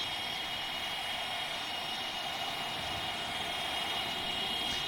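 Tupolev Tu-154B-2 jet engines in the X-Plane 12 flight simulator, a steady broadband roar with a high whine held near 90% RPM during the climb, continuous and even throughout with no talk.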